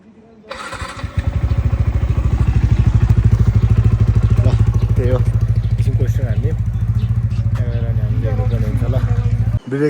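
A motorcycle engine starts after a brief low rumble, then settles into a loud, close, steady idle with a throbbing exhaust beat that carries on for several seconds before cutting out abruptly at the end, while people talk faintly in the background.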